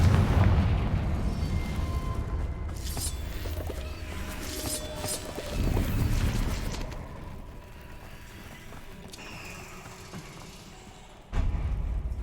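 A Confringo fire spell explodes in Hogwarts Legacy: a few booming bursts over a rumbling game backdrop, the loudest blast landing sharply near the end, moderately loud and heard without speech.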